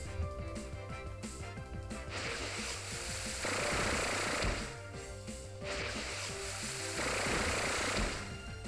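Gear Grind, a move in the Pokémon Sun video game, plays as a harsh, rhythmic mechanical grinding that comes in repeated rattling bursts of steady intensity, with no voices over it.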